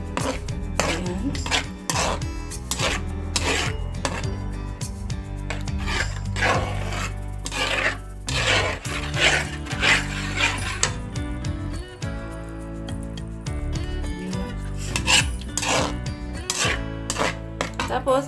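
Creamy carbonara pasta being mixed in a pan, with busy clattering scrapes, knocks and utensil clinks against the pan in rapid irregular bursts, loud and close, with some talking underneath.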